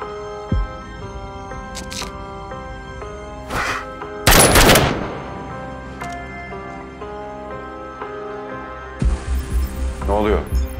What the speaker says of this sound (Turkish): İçeriden silah sesleri geldi.